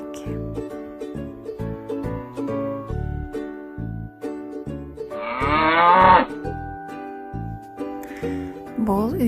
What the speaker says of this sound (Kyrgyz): Бул үй жаныбарынын аты уй.